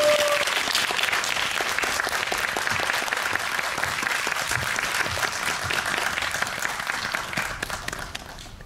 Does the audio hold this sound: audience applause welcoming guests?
yes